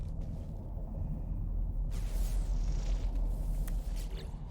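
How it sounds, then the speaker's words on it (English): In No Man's Sky, a heavy storm roars as a constant low rumble outside a shelter. A gusty, hissing wash of noise swells partway through and then holds steady. "The storm is bad."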